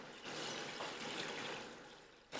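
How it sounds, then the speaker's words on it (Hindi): Water is poured into a cooking pot for chicken stock (yakhni), making a soft, steady splashing trickle for about two seconds that stays close and fairly quiet and then stops. "अब मैं इसमें डाल रहा हूँ पानी, ठीक है, ताकि यखनी बन जाए हमारी।"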